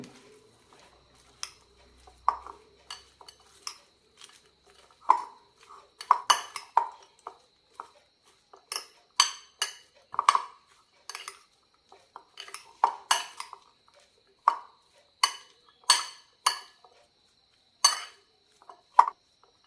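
A spoon clinks against a bowl as a mixed salad with coriander leaves is tossed. The clinks and scrapes come in irregular bursts, close and crisp, over near silence.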